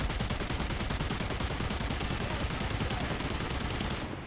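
Anti-aircraft guns in the War Thunder video game pour out rapid, continuous automatic fire at a bomber, a dense unbroken stream of loud bursts lasting throughout with no talk.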